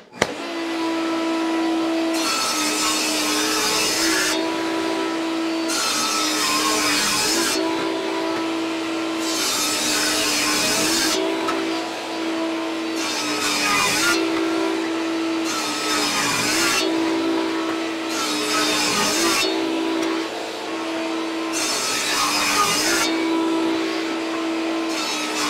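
Table saw ripping maple and other hardwood strips for a chess board, a loud steady motor whine with repeated cutting passes in regular surges, each pass a few seconds long, no talking.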